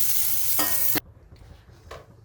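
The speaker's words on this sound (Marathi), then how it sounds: "आपण आता दोडके असे परतून घेतलेले" Ridge gourd sautéing in a hot pan gives a loud, steady sizzle with a burst of stirring scrapes, then cuts off abruptly, leaving a quiet stretch with one faint clink near the end.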